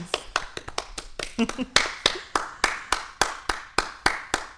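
Someone claps steadily, a run of sharp, close hand claps at an even rhythm, with a brief irregular flurry in the middle. Faint voices sit beneath the claps.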